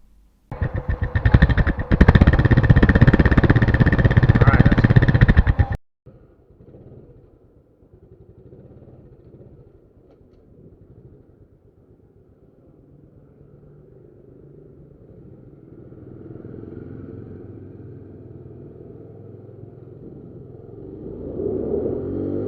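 Honda Wave RSC motorcycle runs loud and steady for a few seconds, then cuts to a faint, low road rumble that slowly builds toward the end.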